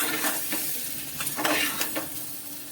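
Potatoes frying in oil in a home kitchen pan for a vegan curry, a steady close sizzle with scraping stir strokes recurring every second or so, no voices.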